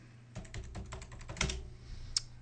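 Typing on a computer keyboard while installing software on a Linux machine: a quick burst of close, crisp key clicks with short pauses, ending in a single louder keystroke after a brief gap.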